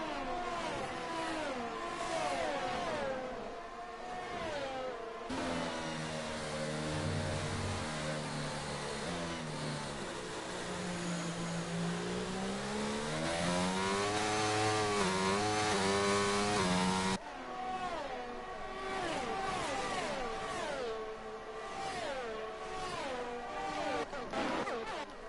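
Formula 1 race cars, McLarens and a Red Bull, scream through a wet race in a video game, engines rising and falling in pitch with gear changes, a sustained close onboard howl in the middle, under commentary.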